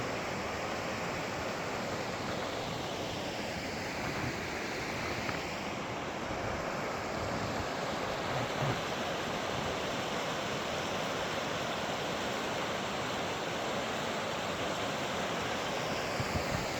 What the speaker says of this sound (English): that was Lake Creek, which flows out of Phelps Lake